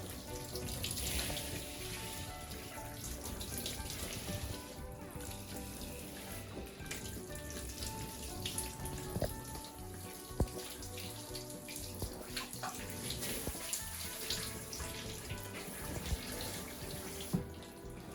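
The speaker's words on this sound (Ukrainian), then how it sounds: "Зараз ми закриємо очки і поліємо трошечки на мордочку." Water from a tap or shower runs steadily over a dog's head during a bath, a continuous close splashing and gushing with small shifts in flow throughout.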